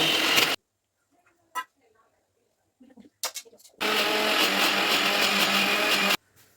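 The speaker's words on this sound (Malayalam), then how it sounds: "നല്ലോണം അരച്ചെടുക്കാം." Electric mixer grinder whirring loudly as it grinds curry paste with water for a fish curry, a short opening burst then a long steady run of close motor roar, with brief quiet handling noises between the bursts.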